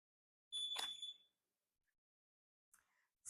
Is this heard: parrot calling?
no